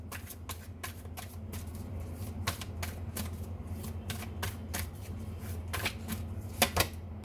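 A True Love oracle card deck is shuffled close by in a run of quick, crisp riffling flutters with short bursts and pauses. A low steady hum sits underneath, and nobody speaks.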